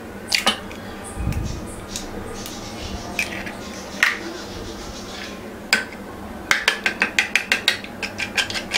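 A whisk or fork clicks against a bowl while an egg is beaten for a village-style Tamil egg dish, with scattered taps early on and then a quick, steady run of close clinks near the end.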